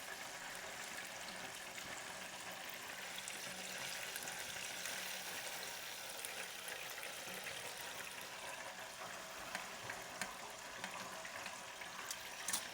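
Water boils out of hot oil in a deep fryer, giving a steady, dense sizzle and hiss that carries on without a break.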